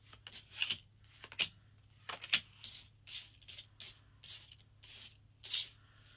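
Tarot cards are shuffled and drawn in a quiet room: about nine short, crisp riffling and sliding bursts come at an uneven rhythm, close and fairly soft, with no voices.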